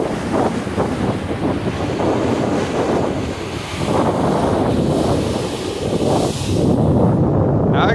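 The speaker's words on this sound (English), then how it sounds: "This is what the seas look like right now." Rough, stormy Mediterranean sea off Sicily: loud waves crash and surge repeatedly while strong wind buffets the microphone, a continuous roaring wash with swelling breakers and no voices.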